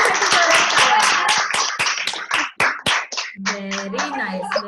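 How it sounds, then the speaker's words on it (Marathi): Group of people clapping together loudly in a classroom after students speak, dense applause trailing off into scattered claps, followed by a voice speaking. "सगळ्यांसाठी जोरात टाळ्या वाजवूयात आपण"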